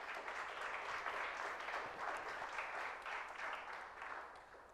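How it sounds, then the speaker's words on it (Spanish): A church congregation applauds during a Sunday morning worship service, a steady, dense clapping sustained throughout at moderate volume, with a faint voice briefly audible beneath. "Denle un aplauso por favor al Señor"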